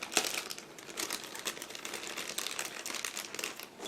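Plastic bag from an Aoshima 1/24 Subaru BRZ model kit being handled, a close run of irregular crinkles and crackles with no voice.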